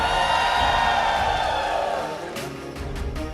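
Esports playoff crowd at a mobile esports league event, roaring in a broad sustained wash that eases slightly, then picks up with scattered cheers.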